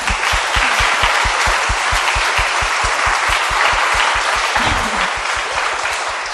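Church congregation applauding each other during a charity love concert, loud sustained clapping with a steady rhythmic beat of unison claps running through it, close and continuous.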